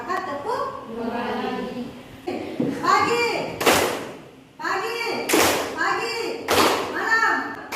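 Children's sharp single claps ring out a few separate times between stretches of speech, each a crisp slap standing out against the talking.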